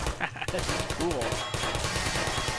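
Rapid gunfire bursts in the video game Half-Life 2, loud and dense, rattling continuously over game sounds, with a voice briefly audible mid-clip.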